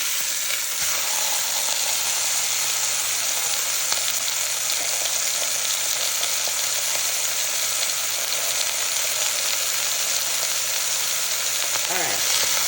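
Dirty rice sizzles steadily in added grease over a medium flame, a loud continuous frying hiss with occasional stirring scrapes near the end.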